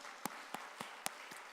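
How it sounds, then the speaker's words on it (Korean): A handful of sparse, separate claps from a church congregation at a Korean Sunday Christmas service, about five distinct hand claps spaced evenly and sounding faint and somewhat distant. "우리 같이 하나님께 영광의 박수를 올려드리겠습니다"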